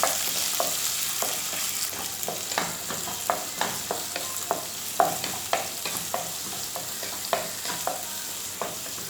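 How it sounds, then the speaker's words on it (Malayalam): Sliced onions sautéing for rava upma, with a steady sizzle from the pan and regular clicks and scrapes of a stirring spoon all the way through, at close range and with nobody talking. "ഉള്ളി ചേർത്ത് നല്ലപോലെ വഴറ്റുക."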